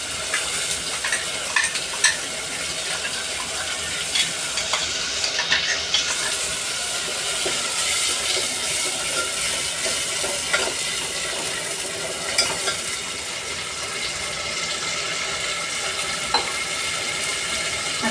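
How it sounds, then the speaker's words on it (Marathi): Onion and tomato puree sautéing in oil in a pan, a soft steady sizzle and hiss with occasional stirring scrapes, continuous and close, with no talking. "ह्यालाही छान असं तेलावर आपल्याला परतून घ्यायचं आहे."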